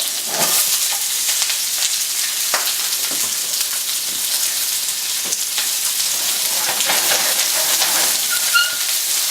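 Yellow onion frying in a pan for a chicken and vegetable udon stir-fry: a steady, bright sizzle with occasional crackles and pops, continuous and fairly close.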